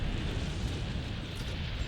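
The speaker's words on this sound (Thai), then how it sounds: "โอเคจะระเบิดแล้วโอ้โหหลบไม่ทัน" Massive eruption-like explosion of Zorah Magdaros, the volcanic monster in the video game Monster Hunter World: a dense, continuous roaring rumble that fills the whole moment at steady loudness, with no voices.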